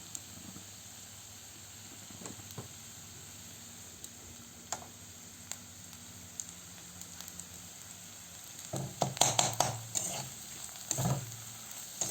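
Ghugni, a dried-pea curry, is stirred continuously in a pan with a steady low sizzle under soft scraping, then a burst of louder clattering stirs near the end, with no voices.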